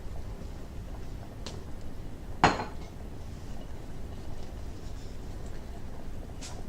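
Dirty pots and a cheese grater are set down on the dirty side of a kitchen sink before washing up. A single sharp metallic clank stands out, with a couple of faint clinks around it over quiet room noise.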